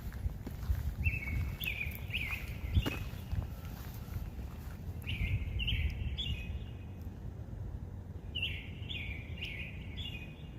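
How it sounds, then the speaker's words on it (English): Birds sing outdoors in repeated short bursts of chirping phrases, with rustling and footstep-like noises underneath and a few sharp knocks. "listening to the birds."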